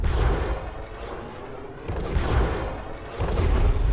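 Weapons fire from a Comanche attack helicopter in the video game Comanche 4 booms out in heavy, rumbling bursts, three swelling blasts spread over a few seconds, loud and close with no voices.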